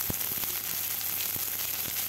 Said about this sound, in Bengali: তেল গরম হলে দিয়ে দিলাম পাঁচফোড়ন, কাঁচা লঙ্কা, পেঁয়াজ দিয়ে লাল লাল করে ভেজে নেব